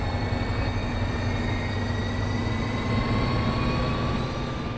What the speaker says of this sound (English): You are currently riding in a double-deck gallery car on a southbound service.